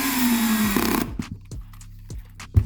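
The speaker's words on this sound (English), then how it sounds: "that's why I have it set like on the lowest torque setting" A power drill set to its lowest torque drives screws into a hard bulkhead on an RC truggy chassis, a short whirring run that stops, then several small clicks and knocks.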